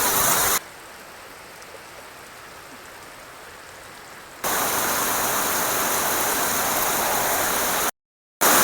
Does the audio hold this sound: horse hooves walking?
no